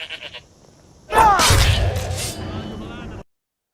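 A goat bleats in Skyrim, played on a modded setup at Legendary difficulty, giving a loud, drawn-out cry of about two seconds that starts abruptly and carries over the low game ambience.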